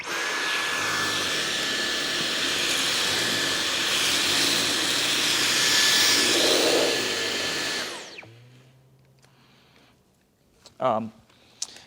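A Dyson V11 Animal cordless vacuum runs on high with a loud, steady whine and roar as it is pushed across soft carpet for about eight seconds, then cuts off, leaving quiet room sounds and a short bump near the end.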